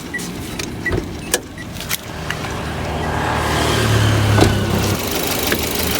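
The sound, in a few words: Mitsubishi Xpander 1500cc 4A91 four-cylinder engine running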